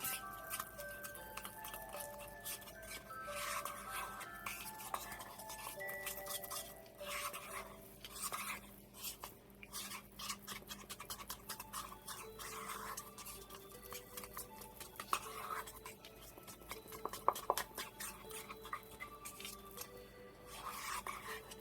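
Resin being mixed inside a plastic bag, a long run of soft crinkling, squishing and rapid tapping strokes, close and fairly quiet, while a steady faint ticking and a low hum continue behind it.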